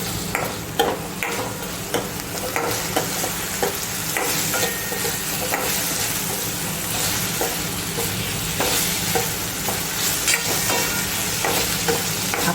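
Dosa batter mixture sautéed in a pan for a Kathiyawadi-style dosa vada, with a steady close sizzle and repeated scraping stirs running throughout, with no voices.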